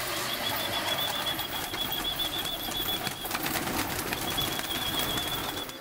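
Pigeons coo on a rooftop beneath a steady, close, busy background hiss, with a thin high whistle-like tone that repeats in short runs.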